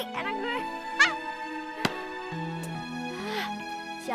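A pet goose honks several times in a comedic lenong stage sketch, with brief sharp calls standing out over continuous background music and occasional voices.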